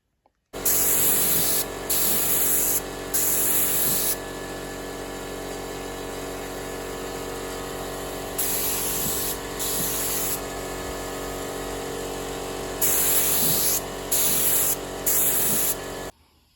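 An aerosol spray paint can hisses onto a door in several short bursts separated by pauses, close and steady, over a constant background hum.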